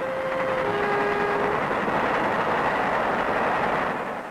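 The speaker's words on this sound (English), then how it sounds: "That train has just cleared, Walter." A loud, continuous rumble of a 1960s train rolling past, with a brief horn tone at the start that fades as the roar carries on.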